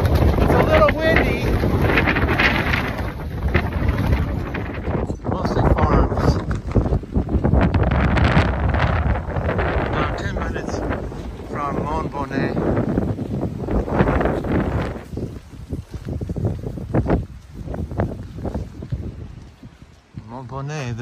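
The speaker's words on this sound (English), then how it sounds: "It's a little windy." Strong wind buffets and roars across the microphone continuously on a Camino de Santiago trail leaving Le Puy-en-Velay, gusting in waves throughout.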